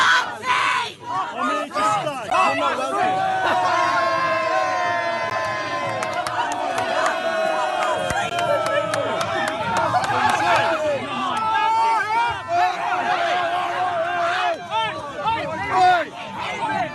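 Protest crowd in Parliament Square around a Trump supporter, loud and close, with overlapping shouts, jeers and chanting voices mixed with dense babble throughout.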